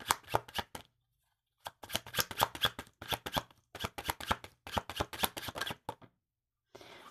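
Tarot cards riffle-shuffled in several quick bursts of crisp, fluttering slaps, close and clear, with short silent pauses between bursts and no talking.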